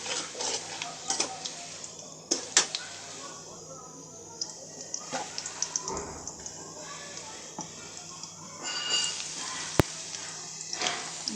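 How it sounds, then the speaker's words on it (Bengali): Chopped garlic frying in oil in a pan, a soft continuous sizzle with scattered stirring clicks and scrapes, while a voice talks at times. "রসুন কুচি দিয়ে এগুলোকে আমি একটু ভেজে নেব।"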